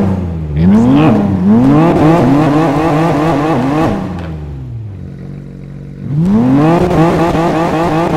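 A Nissan Skyline R34 in the video game GTA 5 revs hard and loud, its engine note climbing repeatedly through rising pitch sweeps, dropping to a brief lower drone, then surging again.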